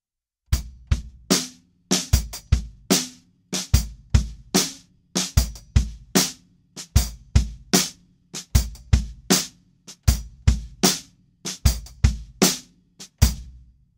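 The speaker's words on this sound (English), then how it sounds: "we're keeping the same kick and snare pattern and it will sound like this" Drum kit playing a song's groove: a steady kick and snare pattern with quarter-note hi-hat, a regular rhythm of sharp hits carrying on for about fourteen seconds with no talking.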